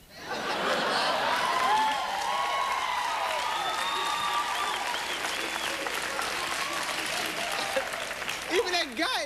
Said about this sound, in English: Even that guy is clapping it.